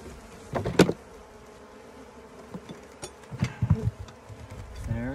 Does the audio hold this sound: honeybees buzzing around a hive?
yes